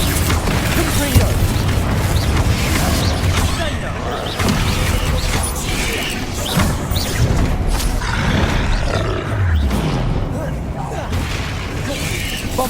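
Fire-spell blasts and booming magical impacts in the Hogwarts Legacy combat game, loud and repeated in quick succession, with deep roaring rumbles and crackling bursts layered over constant battle noise and shouted incantations.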